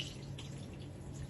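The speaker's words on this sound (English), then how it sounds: "this will put the water around the bowl and you can fill the bowl up" Water from the flush of a 2024 Burstner Lyseo TD 727 G motorhome toilet rinses around the bowl in a close, continuous trickling rush.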